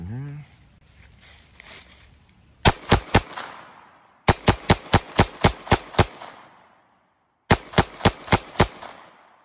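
Handgun shots fired in rapid strings at close range of 9 to 15 feet while point shooting without sights: loud sharp cracks in three bursts of about four, seven and five shots, preceded by faint handling noise.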